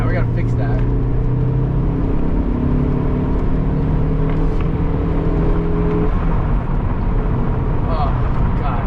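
A 1999 Saab 9-3 Viggen accelerating hard uphill, its engine a loud, sustained drone that climbs steadily in pitch under a voice talking excitedly over it.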